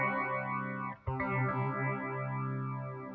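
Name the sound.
Moogerfooger phaser effect switched to 12 stage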